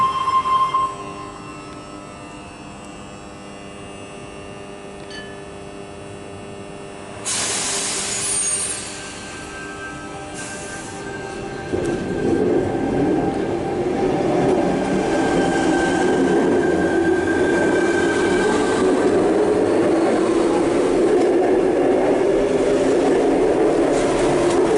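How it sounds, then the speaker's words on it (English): A Sydney Tangara electric train departs a station, its motors whining up and wheels rumbling louder and steadier as it pulls away, with faint squeal and distant rail noise. "And we've got the Tangara departing."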